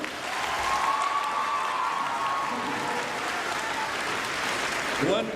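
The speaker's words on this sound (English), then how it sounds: "let's give him another round of applause" An audience applauds a young man after a nail-bending demonstration at a veterans' event; sustained crowd clapping with some voices over it, swelling again near the end.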